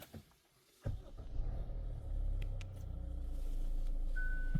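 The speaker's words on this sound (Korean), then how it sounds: "자, 시동을 해보겠습니다" A Hyundai Staria diesel engine, in for a warning-light and low-power fault, cranks and catches after a quiet pause, then settles into a low, steady idle rumble with a brief electronic chime near the end.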